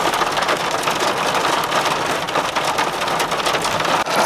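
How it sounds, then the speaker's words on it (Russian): Heavy downpour with hail pelting down outdoors by a riverside trout-fishing spot, a loud, dense, steady roar of rain and hailstones drumming on surfaces, with no voices. "Вот такой замечательный дождик, просто ливень, как будто из ведра льется, и с градом."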